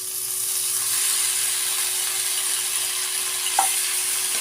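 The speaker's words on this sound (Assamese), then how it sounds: "এতিয়া ইয়াত মই মেক্ৰণিখিনি দি দিম" Macaroni stirred into a tomato mixture in a pan gives a steady low sizzle and hiss throughout, with one brief utensil tap near the end and no talk.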